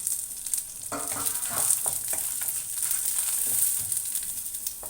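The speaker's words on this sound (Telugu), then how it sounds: "ఎండి ఎండుమిర్చి పచ్చిమిర్చి అన్నీ కూడా వేసి వేయించుకుందాము" Dry red chilies and green chilies frying in a pan for a mint peanut chutney, a soft continuous sizzle with light stirring scrapes throughout.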